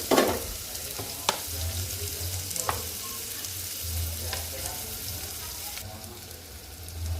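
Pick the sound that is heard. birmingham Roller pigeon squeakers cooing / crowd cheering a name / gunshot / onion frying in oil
onion frying in oil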